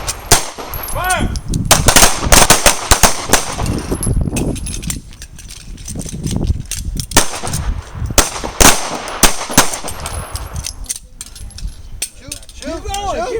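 Pistol shots at a self-defense shooting practice range, sharp loud cracks fired in irregular bursts with many rounds in quick succession, an instructor's commands and other voices heard between the volleys.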